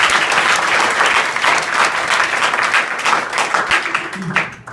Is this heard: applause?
yes